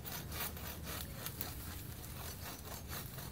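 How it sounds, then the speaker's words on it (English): A hand saw works through dead fallen wood outdoors in steady back-and-forth strokes, a raspy rhythmic rubbing at moderate, fairly quiet level with no talking. "Let's try sawing."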